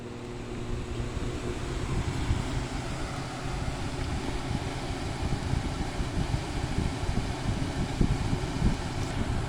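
A 1996 Whirlpool window air conditioner starts up and runs roughly, giving a steady loud whooshing fan roar with a low mechanical hum and faint rattles.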